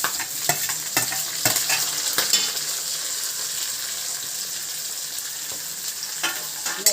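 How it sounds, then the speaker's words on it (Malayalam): Shallots and green chilies are sautéed in a pan for tuna curry, giving a close, bright sizzle broken by several sharp spatula scrapes and taps early on, with no speech. "ഇതെല്ലാം നല്ലോണം വഴറ്റണം, നല്ലോണം ഒന്ന് വഴറ്റിയെടുക്കണം."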